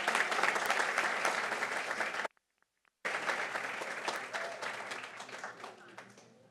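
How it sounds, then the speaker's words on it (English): Audience applause for the top 10 graduates from Trinity, a loud, dense round of clapping that fills the room and breaks off abruptly for a moment before resuming just as strongly and tapering slightly at the end. "And please, one more round of applause for these top 10 grads from Trinity."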